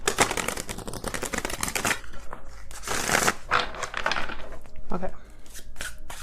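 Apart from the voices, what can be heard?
shuffling a new, stiff tarot card deck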